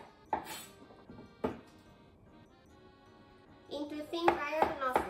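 A kitchen knife chops off the ends of drained cucumbers on a board, two sharp thuds about a second apart, followed by a voice speaking.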